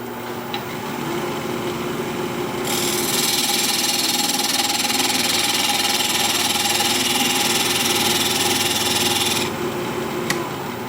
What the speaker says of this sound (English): I forgot to square up the top of this piece. So I'm going to do that now with my parting tool.